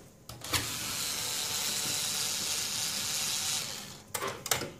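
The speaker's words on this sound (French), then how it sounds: "On desserre les vis ici." A small motorised tool whirs continuously for several seconds while loosening screws on a Canon imageRUNNER copier, framed by brief clicks and knocks at the start and end.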